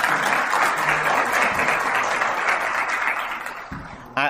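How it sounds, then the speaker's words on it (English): Guests at a retirement ceremony clap in a sustained, dense round of applause that holds steady, then fades toward the end before a brief final sound. "give yourselves a round of applause"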